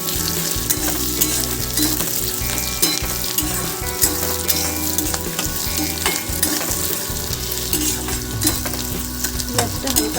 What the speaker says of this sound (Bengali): পেঁয়াজটাকেও একটু ভালো করে ভেজে নেব।